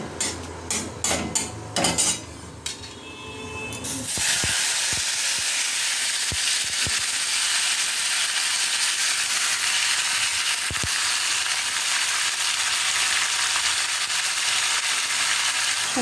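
Chopped tomatoes hit hot oil already frying five-spice and dried chilli, setting off a loud, steady sizzle after a few clinks of utensils, then a continuous hiss with occasional stirring scrapes.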